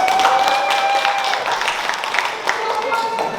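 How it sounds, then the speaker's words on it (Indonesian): Students in a classroom clap together during a biodiversity lesson, a steady patter of hands with a sustained whistle-like tone running through it and a voice faintly audible underneath. "tepuk tangan"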